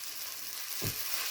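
A spoonful of appam batter hits a hot, thick-bottomed pan and gives one short burst of sizzling over a faint background hiss.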